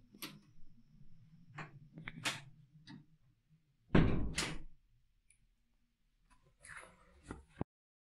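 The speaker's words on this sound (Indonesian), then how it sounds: "Bentar ya, yang aku tutup pintu dulu nih." An indoor door is shut with one loud thump, followed moments later by a fainter clunk and a sharp click as it latches, against near-silence at night.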